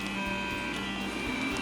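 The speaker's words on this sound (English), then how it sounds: "Okay, so this printer really moves right along." A SeeMeCNC Orion Delta 3D printer runs a print job, with a steady whirring motor hum and faint stepper tones that hold evenly throughout, no voices over it.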